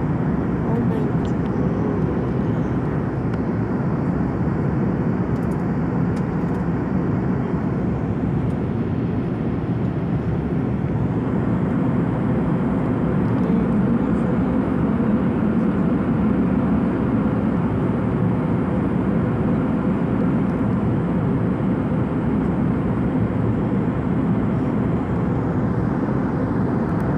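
Steady, loud roar of an airliner's jet engine in flight, heard from inside the cabin as a constant broadband drone that stays even throughout with no breaks.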